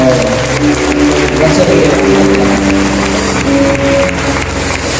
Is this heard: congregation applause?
yes